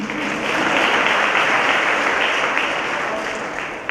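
Audience claps at a high school senior awards ceremony, a steady burst of applause from a sizeable crowd that swells and then fades over a few seconds.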